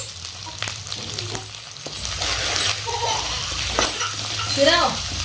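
Ginger is stirred into a hot, sizzling pan while making bonda soup, with a steady frying hiss, scraping spoon strokes and a few metallic clinks up close.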